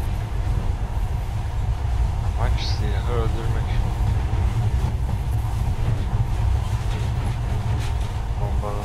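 Monorail train running in the video game Metro: Last Light, a steady low rumbling rail drone throughout, with a voice talking over it.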